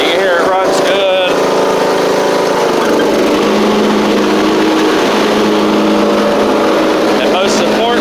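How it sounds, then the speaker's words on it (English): Poulan Pro PP19A42 riding mower engine running steadily at a loud, close, even drone, with someone talking over it. "You can hear it runs good."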